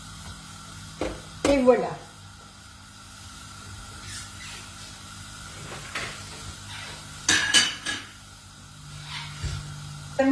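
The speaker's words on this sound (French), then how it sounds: "la grille elle est déjà chaude. Et je mets mes tranches d'aubergine" Eggplant slices for parmigiana hiss and sizzle as they are laid on an already hot grill, with sharp bursts near the start and again midway over a steady low background hiss, while someone speaks briefly.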